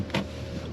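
Power window on a Mercedes-AMG E53 (W213) sliding closed, a short, close electric motor whir with a brief louder burst near the start, lasting under a second.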